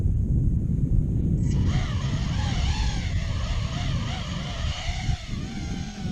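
An RC model plane powered by a 4S battery takes off on a demo flight, its electric motor and propeller buzzing up sharply to a loud, steady drone that wavers slightly as the plane climbs away.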